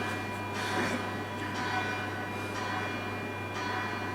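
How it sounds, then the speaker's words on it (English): Alarm bells ring repeatedly in a steady, evenly spaced pattern, about one strike a second, heard at moderate distance over a constant background hum. "Is that alarm bells actually going off around us?"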